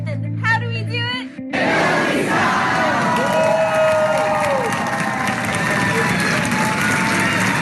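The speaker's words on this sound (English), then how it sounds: "I haven't heard that cheer in so long." A recording of students shouting a call-and-response running cheer plays as a loud crowd chant with rising yells, preceded by a brief burst of music.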